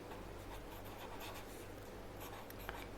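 Marker or chalk scratches and rubs across a board during an accountancy lesson, a faint continuous writing sound with short strokes and no talk.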